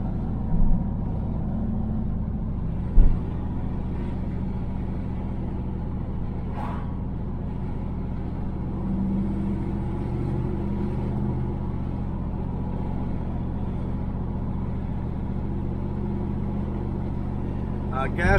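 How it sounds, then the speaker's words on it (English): A 1976 Camaro muscle car cruises on a paved road with a steady low engine rumble and road noise throughout, a couple of brief knocks, and a person talking over it. "Just turned onto the paved road, went through all 3 gears"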